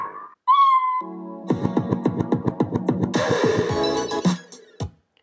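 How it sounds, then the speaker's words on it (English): A Scratch 3.0 library ricochet effect opens with a quick whistling zing, followed by the cat meow sound effect, a series of rapid repeated pulses and then a brighter, busier burst that ends abruptly; no voices. "the ricochet sound played and after it finished, we started the meow sound"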